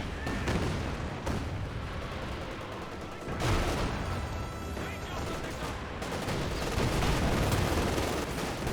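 Katyusha rocket barrage in Company of Heroes 2, a dense, continuous rumble of launches and impacts with rolling booms and crackling fire, loud and sustained throughout, with a couple of heavier bursts partway through.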